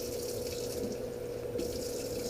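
Water from a sink tap pours steadily into a pot of apples, a continuous hissing gush at moderate level with no talk over it.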